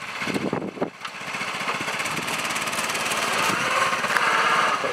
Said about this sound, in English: Go the mighty 6 horsepower tractor.